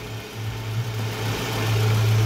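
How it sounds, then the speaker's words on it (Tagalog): 2003 Toyota Previa with a 2.4-liter 2AZ four-cylinder engine running at a steady idle after a timing set replacement, a close, continuous low hum with slight fluctuation and no talking. "Ayan, may start na si 2AZ engine."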